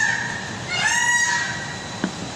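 A single bird gives one drawn-out, nasal honk-like squawk, fairly loud and close over a dull background hum, followed by a brief click.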